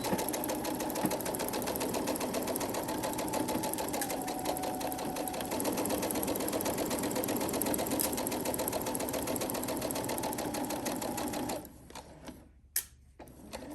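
A sewing machine runs in one long steady burst, stitching fabric forward and then in reverse at close range, before cutting off near the end into a few faint clicks and a quiet room.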